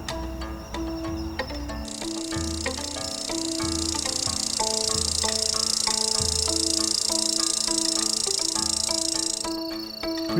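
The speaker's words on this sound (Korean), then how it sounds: "땅에서 노래하는 귀뚜라미입니다" A dense, steady chorus of crickets chirping in an autumn field, joining a couple of seconds in and holding throughout, layered over soft melodic instrumental music.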